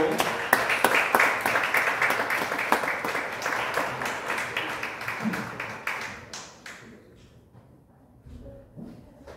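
Guests at a book launch event at a university graduate school give a round of applause. The dense clapping is loud at first, then thins out and fades into scattered claps.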